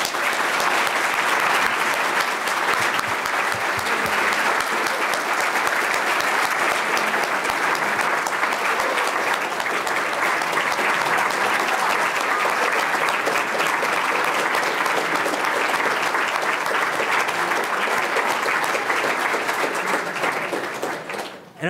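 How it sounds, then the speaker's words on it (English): Sustained loud applause from an audience honoring panelists at a community forum on race relations, a dense continuous wash of clapping that holds steady and fades only at the very end. "Let's have a round of applause for our panelists."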